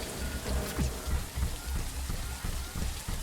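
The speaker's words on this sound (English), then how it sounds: "It's raining." Steady rain falls in the video game The Riftbreaker, a dense continuous hiss with soft rhythmic low thumps throughout, no voices over it.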